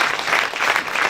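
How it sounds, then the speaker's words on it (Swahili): A church congregation breaks into sustained, lively applause in praise to Jesus, a dense wash of clapping filling the space without pause. "Hebu mpige Yesu makofi ya shangwe"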